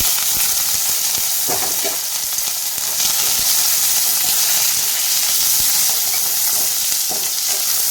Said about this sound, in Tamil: கடலை எண்ணெய் ஒரு டேபிள் ஸ்பூன் ஊற்றிக்கலாம் கடுகு உளுந்து போட்டுக்கலாம் கொஞ்சமாக கருவேப்பிலை மீடியம் சைஸ் வெங்காயம் ஒன்று